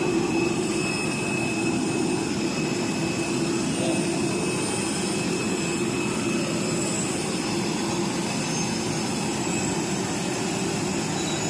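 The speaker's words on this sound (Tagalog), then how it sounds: "Aakyat na kami sa aeroplano." A passenger airplane's jet engine roars steadily and loudly throughout, a continuous broadband whine heard from close by while boarding the plane.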